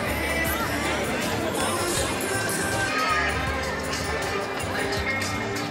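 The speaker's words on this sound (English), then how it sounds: "Look at the crowd." Crowd chattering at a climbing competition in Innsbruck, a dense, continuous murmur of many voices with no single speaker standing out.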